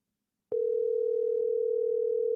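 A steady telephone tone starts abruptly and holds at one pitch for about two seconds on an outgoing call, clear and alone with no talk.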